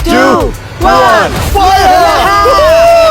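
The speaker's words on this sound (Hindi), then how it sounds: "वाटर गन फाइट शुरू होती है।" Indoor water gun fight: a group of people shout and whoop loudly together, two bursts of yelling followed by sustained excited cheering close by.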